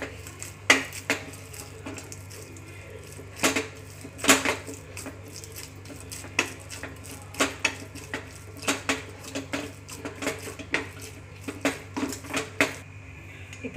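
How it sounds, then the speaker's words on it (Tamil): Potatoes mashed with spices in a pan, a run of sharp irregular metallic knocks and scrapes of a masher against the pan, close and clear with quiet gaps between strokes. "எல்லாத்தையும் போட்டு கொஞ்சம் லைட்டாக நம்ம மேஷ் பண்ணி விட்டுருவோம்"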